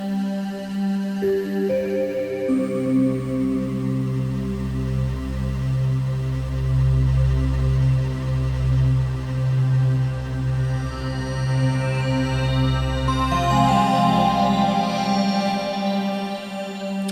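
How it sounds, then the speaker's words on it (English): A sustained wavetable synthesizer pad from the 3rd Wave synth's preset wavetables plays alone, rich harmonic tones slowly shifting and brightening, with a glassy, evolving wavetable texture rising toward the end. "that sound is one of the preset wavetables on here"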